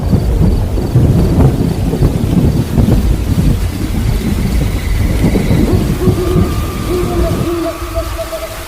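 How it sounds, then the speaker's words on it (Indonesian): Rain and rumbling thunder set in during an animated drama scene about a mountain climb, a steady loud wash of storm noise with low rumbles throughout, thin tonal sounds rising near the end. "Kenapa tiba-tiba mau turun hujan?"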